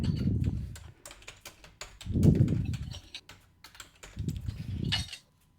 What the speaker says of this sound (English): if I type it all in here now